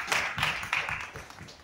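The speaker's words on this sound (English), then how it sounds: "So like a big round of applause for Kerala Tourism," A small group claps for a Kerala Tourism award win at an India tourism ceremony, with a brief run of several loose, uneven claps that fade after a second or so.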